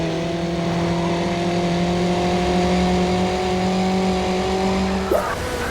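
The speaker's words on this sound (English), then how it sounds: "Just 1 burst of nitro proves Need for Speed Underground revels in intense driving." Sustained loud car engine from the Need for Speed Underground racing game, a steady high drone with harmonic whine held through a nitro burst, then a sudden shift near the end.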